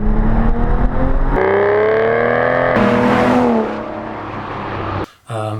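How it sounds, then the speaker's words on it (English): An Aston Martin DBS engine while driving: a loud, close engine note that climbs steadily through the gears, eases off, then cuts briefly before picking up again, with no voices. "capture the sound of the engine, because it's a great sounding car as well"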